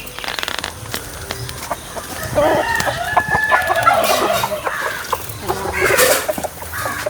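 Chickens and a rooster on a small Kerala family farm plot, with mid-distance clucking and a crow running through a faint background, with no talk.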